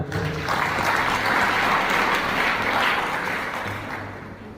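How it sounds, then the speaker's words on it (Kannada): Loud applause from a large crowd at a school felicitation event fills the clip, holding steady and close before tapering off toward the end. No voices are audible. "ಒಂದು ಜೋರು ಚಪ್ಪಾಳೆ"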